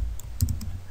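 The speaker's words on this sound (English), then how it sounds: "Type your email address." A few quick keystrokes on a computer keyboard while entering an email address, brief, close and fairly faint over a low background hum.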